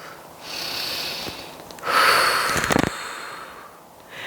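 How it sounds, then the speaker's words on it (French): Deep breaths drawn during a yoga exercise, a soft airy inhale swelling in the middle of the stretch and easing off, close and fairly quiet, with no talk. "De grandes respirations."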